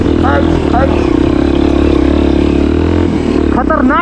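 A motorbike engine drones steadily along a rough, wet, slippery dirt trail in the hills, heard under a rider's excited chatter.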